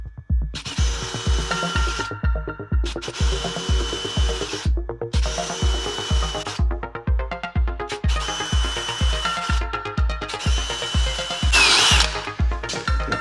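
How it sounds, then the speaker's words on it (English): A power drill bores steadily into aluminum, with a rapid rhythmic grinding pulse and short pauses between bursts, loud and close. "I like drilling aluminum because it's quite soft material"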